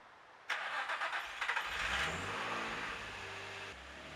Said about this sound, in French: Donc ce qu'on fait, c'est que j'avance la voiture